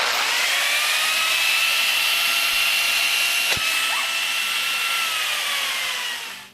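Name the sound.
angle grinder with chainsaw attachment running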